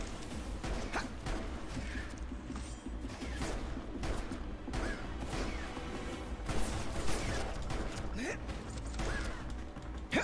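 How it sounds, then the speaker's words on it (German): Rapid bursts of gunfire from the Final Fantasy XV video game crack out repeatedly over about ten seconds, mixed with game effects and a person talking over the shots. "Okay, Schüsse von nahen machen mehr Schaden als die von weit her weg."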